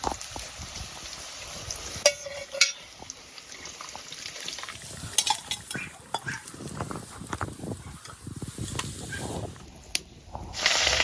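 Fish pieces fry in oil with a bubbling, crackling sizzle, punctuated by sharp clatters and splashes as pieces are moved; a voice talks intermittently over the frying.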